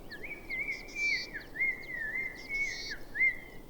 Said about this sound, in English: so birdsong is the only sound in the cliffs.